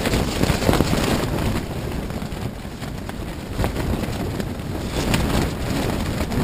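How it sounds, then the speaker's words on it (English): Strong wind gusts roar across Fort Peck Lake during a late-night windstorm, buffeting the microphone in a dense, continuous rush with surges and debris pelting nearby, and no talking. "the wind is still going strong."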